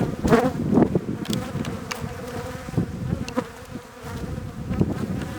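A dense, steady buzz of many honey bees at an open hive during an inspection, with individual bees droning past and occasional soft knocks and rustles.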